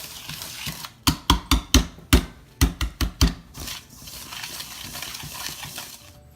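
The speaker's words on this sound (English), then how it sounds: "can use a whisk again because you just want to cream everything together" Margarine and sugar being creamed together in a bowl with a whisk for vegan pumpkin cookies, heard as a quick burst of about nine sharp, close knocks and scrapes of the whisk against the bowl, then softer stirring.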